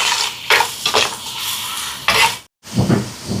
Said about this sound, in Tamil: தக்காளி பழம் சேர்க்குறேன். இது கொஞ்சம் வதங்கட்டும்